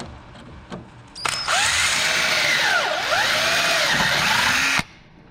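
A power drill whines loudly and steadily for several seconds, its pitch sweeping up and down as it bites into metal on a Chevrolet Tahoe, then cuts off abruptly.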